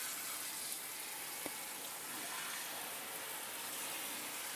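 A steady stream of water rinses away buildup and cleaning product from a surface, making a continuous, even hiss that stays soft and close throughout.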